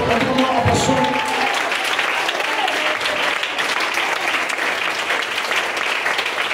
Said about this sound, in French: Levez-vous, acclamez le Seigneur pour votre pasteur.